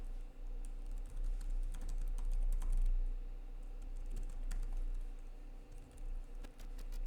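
Computer keyboard typing code, close and steady, with quick irregular key clicks and occasional firmer taps over a low background hum, no voices.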